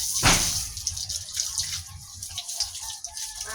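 Water is poured from a jar to wash a floor, starting with a splash and then a steady close pouring and splattering that continues throughout.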